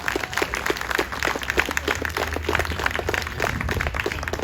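An audience at a memorial gathering for Bill Archbold applauds, a dense, steady patter of many hands clapping at moderate loudness throughout, with no voices over it.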